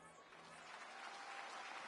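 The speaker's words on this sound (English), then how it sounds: "The fans are clapping." Fans in a stadium crowd applaud in the Madden NFL video game, a steady, fairly faint wash of clapping that builds slightly over a couple of seconds.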